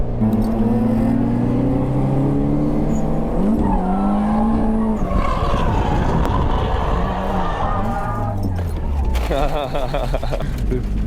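ZHP-swapped BMW E46 racing on a track, its engine loudly climbing and dropping through gear changes with tire squeal, under someone talking throughout.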